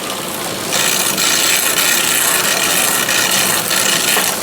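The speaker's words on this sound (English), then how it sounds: "Pedal backwards, wipe it the other way" A bicycle chain pedaled backwards while a rag wipes it during a spring tune-up, giving a steady, close rasping whir of ratchet and chain with no speech.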